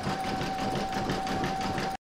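An embroidery machine sews a satin stitch across a placemat held in a hoop, making a fast, even, mechanical whirr with a steady pitched hum for about two seconds before it stops abruptly.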